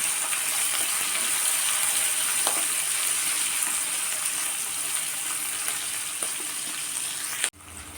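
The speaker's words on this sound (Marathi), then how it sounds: "आणि यामध्येच आपल्याला कढीपत्ताही घालायचा आहे. छान कांदा परतून घ्यायचा आहे." Chopped onion and curry leaves sauté in hot oil in a pan, giving a steady, close sizzle that holds level for about seven seconds before dropping off abruptly near the end, with no talk.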